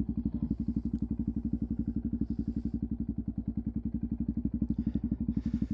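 A motorcycle engine idles close by with a rapid, steady thumping pulse as the rider sets off slowly in first gear, the exhaust beat even and loud throughout with no voices.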